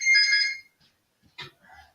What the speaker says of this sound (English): My house phone.